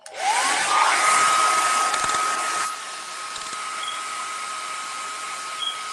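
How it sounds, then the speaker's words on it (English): A hair dryer used to dry paint on a painting whirs up loudly and blows steadily, then drops to a lower, quieter setting and keeps running alone with no one talking. "let me see if I can get my dryer to work."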